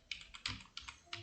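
A web address is typed on a computer keyboard: about eight quick, irregular keystroke clicks within a second, close-up and fairly quiet, with no talking.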